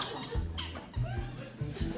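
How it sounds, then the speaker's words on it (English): A squeaky chair creaks in short repeated squeaks, three or four bursts with gaps between, up close in a quiet room. "got a bit of a squeaky chair."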